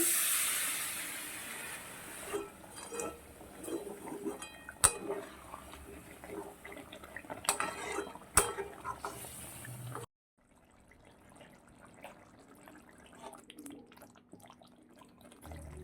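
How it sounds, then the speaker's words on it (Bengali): Water poured into a hot pan of yogurt chicken masala hisses and spits loudly with clinks of utensils, then drops to a quieter, steady simmering bubble. "জল দেওয়ার পর ফুটে গেছে"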